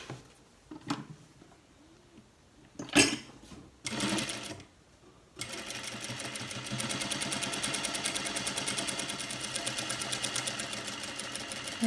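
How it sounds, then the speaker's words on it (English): A sewing machine stitches close to the edge of cargo pant leg holders, opening with a few short bursts and then running in a steady, fast, rattling stitch that continues to the end, with no voices. "The pant holders we stitch close to the edge"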